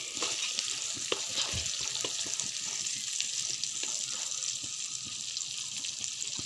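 Manimuni greens and potatoes sizzle steadily in a hot pan, with a constant bright hiss and scattered soft scraping clicks as they are stirred, close and continuous without any voices.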